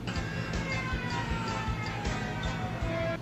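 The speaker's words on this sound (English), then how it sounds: "So it looked like the siren was coming from him." Siren from an animated One Piece episode, a steady wailing tone layered over rhythmic pulsing thuds, continuous and fairly loud throughout.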